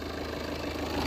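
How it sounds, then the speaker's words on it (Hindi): Steady low drone of a Tata Altroz 1.5-litre four-cylinder BS6 diesel engine idling, heard from inside the cabin, a continuous even hum with no voices over it. "ये इंजन अंदर की नॉइस है डीजल की, ये ऐसी कुछ नॉइस है।"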